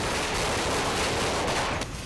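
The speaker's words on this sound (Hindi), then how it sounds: "दिवाली की रात आसमान पटाखों के शोर से गूंज रहा होता है" Diwali night firecrackers burst in a dense, continuous crackling barrage, loud and unbroken, then thin out abruptly near the end.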